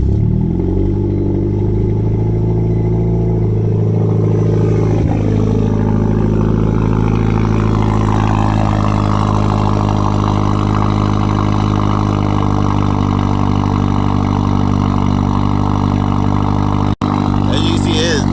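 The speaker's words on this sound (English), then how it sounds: "If you couldn't tell, that was definitely a cold start." Nissan Juke cold start with a 3-inch exhaust running from the downpipe back: a loud, steady engine drone with strong low rumble holding throughout, briefly cutting out near the end.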